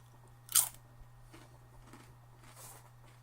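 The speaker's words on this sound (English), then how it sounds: "That is a crunchy potato chip." A single loud, sharp crunch from biting into a Lay's potato chip, close to the mic, followed by a few fainter chewing crackles over a steady low hum.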